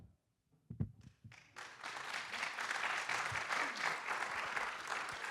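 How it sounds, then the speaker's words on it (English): After a few scattered early claps, audience applause swells at a county commissioner debate into a full, steady crowd clapping that continues to the end without talk over it. "can we please hold our applause till the end of the round?"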